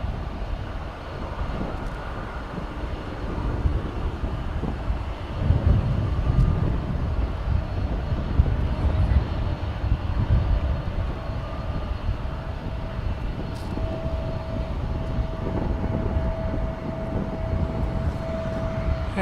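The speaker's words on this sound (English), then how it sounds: "that was American Flight 2761, a 737-800 on its way to St. Louis." An American Airlines Boeing 737-800 takes off from a runway at DFW, its engines producing a steady broad roar that holds at moderate distance for a long stretch with a faint whine above it.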